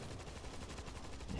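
Rapid bullpup rifle gunfire in World War Z on PS4, a steady stream of dense shots under a constant roar of game noise, fairly loud and with no speech.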